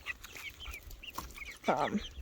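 Several Delaware chickens clucking and chirping nearby, soft overlapping calls with a louder squawk near the end.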